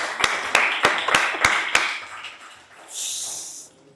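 Six sharp, evenly spaced claps from an audience at a Ramayana satsang gathering, fairly close and crisp, followed by a brief hiss of noise.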